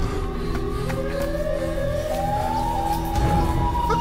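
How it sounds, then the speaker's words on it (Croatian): A rising siren wail drones steadily in the Siren Head horror game, loud and continuous over a low rumbling bed, its pitch sliding slowly upward throughout. "jer čuju se sirene"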